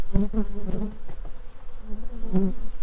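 Angry honeybees swarm at a hive with a starving colony, a dense, close, continuous buzz with sharper individual wingbeat flares as bees dart past.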